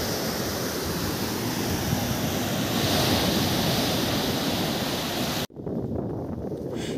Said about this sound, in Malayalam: ആർത്തിരമ്പി വരുന്ന ആ തിരമാലകൾ കാണാൻ തന്നെ ഒരു ഭംഗിയാണ് കേട്ടോ